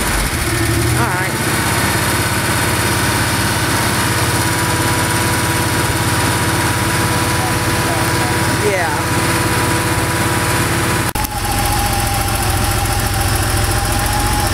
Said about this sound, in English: start up one more time for me. Give it some gas for me, would you?